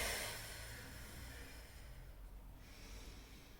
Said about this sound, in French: Exagérez cette expiration.